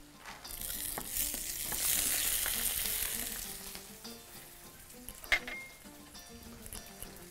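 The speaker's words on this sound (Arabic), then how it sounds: "وانا حطيت لوز هنا بحمره" Almonds fry in a pan for rice, giving a close, continuous sizzle that swells and then eases, with a few light clinks of a utensil against the pan near the end.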